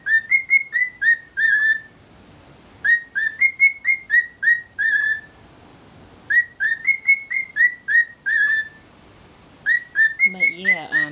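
Two pet cockatiels trade clear, rising whistled phrases in repeated bursts separated by short pauses, close and bright in a quiet room, and a lower warbling call joins in at the end.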